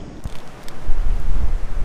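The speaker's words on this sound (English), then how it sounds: "It is so windy out here. You can just hear it roaring through the trees." Strong wind roaring steadily through trees at Mammoth Pool, a low rumbling gusty rush that swells and holds, loud and close to the microphone with no voices.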